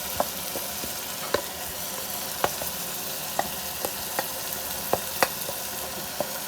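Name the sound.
spices frying in pan for keema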